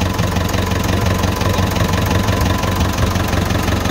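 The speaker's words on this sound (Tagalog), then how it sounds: "Testing na engine. Sa 4BC ito." An Isuzu 4BC2 diesel engine, freshly given a top overhaul, runs at a steady idle close by, with a loud, continuous knocking rumble and no voices.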